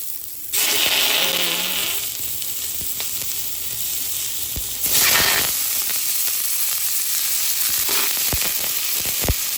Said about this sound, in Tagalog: igisa lang natin yung ating bawang at sibuyas